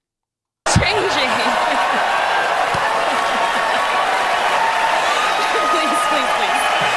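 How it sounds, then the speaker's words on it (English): A large crowd cheers and applauds after a sudden start, a steady loud roar of clapping and shouting that holds at even intensity throughout. "and the crowd goes wild, right?"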